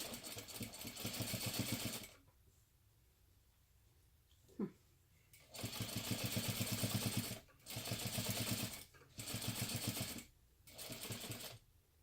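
A sewing machine top stitches a pleat fold on a crossbody bag, running in several bursts of rapid mechanical whirring separated by quiet pauses, with a brief tap in one gap.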